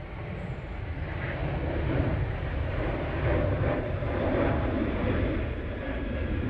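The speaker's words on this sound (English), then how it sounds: "one of the cruises flights off to Turin now using the 737-800" A Boeing 737-800 airliner taking off at Manchester Airport gives a loud, steady jet engine roar that swells and holds throughout, heard from outdoors with no talk.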